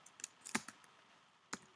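A few light, scattered clicks of typing commands on a computer keyboard, quiet and close, with short gaps between keystrokes and no talking.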